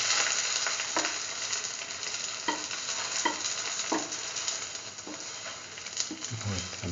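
Cauliflower tomato chili French toast, dipped in egg mixture, fries in a pan with a steady sizzle broken by a few scraping, shifting knocks as it is moved about.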